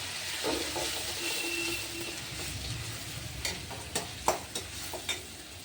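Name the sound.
ginger, garlic and onion frying and being stirred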